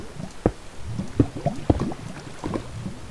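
Water flows and gurgles inside a cave in Minecraft, with repeated bubbling splashes and low sloshing pulses that keep up at a steady, moderately loud level.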